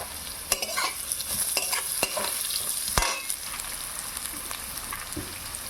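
Beetroot tipped into vegetables frying in a pan, then stirred: steady close sizzling hiss with sharp scraping clacks of a spoon against the pan, loudest around the third second, no talking.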